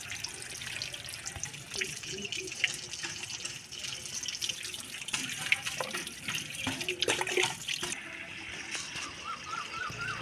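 Running tap water splashes steadily as pieces of korameenu (snakehead) fish are rinsed and cleaned by hand, with irregular drips and sloshing close by, no talking.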